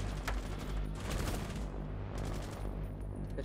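Continuous gunfire from a Rainbow Six Siege match, dense rapid shots layered over a steady game soundscape with no clear pauses.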